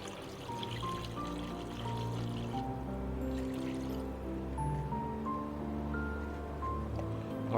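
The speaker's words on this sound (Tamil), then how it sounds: "இந்த காய்கறியெல்லாம் வேகிற அளவுக்கு தண்ணி ஆட் பண்ணிக்கலாம்" Water pours steadily into a pot of vegetables for mutton dalcha, a soft continuous stream and gurgle with faint kitchen clatter, close and quiet throughout.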